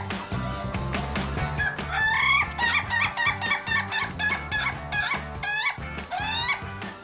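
An Indonesian laughing chicken (ayam ketawa) crows close and loud in a long, rapid, stuttering series of cackling notes that rise and fall like laughter, with other fowl calls and a steady background beneath.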